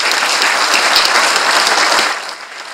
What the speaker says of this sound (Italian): Facciamo un applauso da Ayrton.